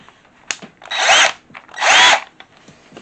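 A Sealey 12V CP1201 cordless drill driver whirs in two short bursts, each about half a second, with faint clicks and handling noise before and between them.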